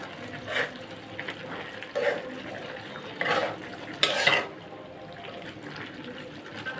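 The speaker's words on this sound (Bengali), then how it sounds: "আমি আবারও ঢাকনাটা উঠিয়ে নাড়াচাড়া দিয়ে দিলাম" A curry of greens with jackfruit seeds and shrimp being stirred in a pot, with a few spaced scraping and clattering strokes over a steady low simmering hiss, close and moderately loud, with no talking.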